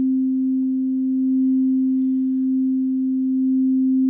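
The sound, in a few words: Empyrean crystal singing bowl, C bowl, ringing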